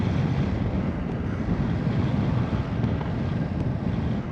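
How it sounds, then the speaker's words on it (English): Steady, loud wind buffets a microphone outdoors beside a BMW F850 GS Adventure motorcycle, a constant low rumbling roar with no talk. "God, it's windy."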